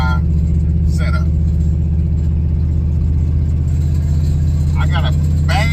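The engine of an OBS truck, fitted with a 2-inch carb spacer on a NEFI setup, runs with a loud, steady low-pitched rumble throughout, with brief voices talking over it.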